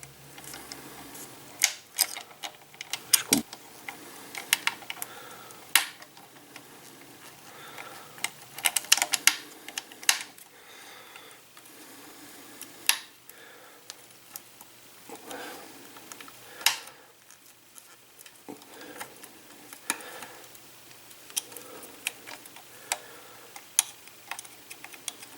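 A small screw is driven by hand into a 1/8 scale Eaglemoss Ecto-1 model kit, making faint, irregular ticks and clicks of the screwdriver and plastic parts, scattered and quiet at close range.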